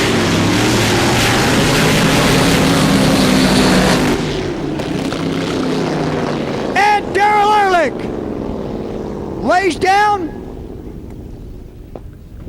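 A loud, roaring drag-racing boat engine fades out, then engines rev up sharply twice in rising whines. A commentator talks over it.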